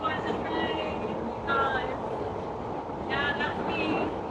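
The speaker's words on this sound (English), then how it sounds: "Do you want to see how the train's moving?" Inside a fast-moving train carriage, a dense, steady rumble and rushing roar fill the space, with faint squeaks and rattles rising at intervals; no one speaks.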